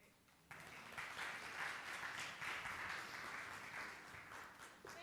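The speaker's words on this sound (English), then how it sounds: "Please give Reverend Juan another round of applause." Applause from a congregation at a Sunday talk for a reverend, breaking out abruptly and holding as a full, even round of clapping before tapering slightly at the end.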